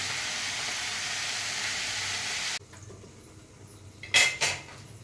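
Ivy gourd (dondakaya) pieces sizzle and fry in a pan for rasam, a steady broadband hiss that cuts off abruptly midway, followed by quieter kitchen sounds and a couple of sharp pan or utensil clatters near the end.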